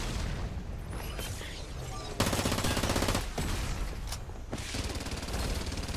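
Gunfire in the video game Farlight 84: rapid automatic bursts and heavy booming shots in dense volleys, loud and close, with a sharp sustained fusillade in the middle.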